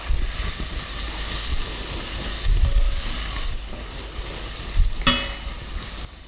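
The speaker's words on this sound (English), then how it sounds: "you're going to hear that start to sizzle now because of all the moisture in there" Garlic, ginger and ground spices frying in hot oil, a loud continuous sizzle with stirring scrapes and a sharp clatter near the end.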